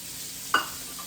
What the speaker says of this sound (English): I'm just going to give that a nice good stir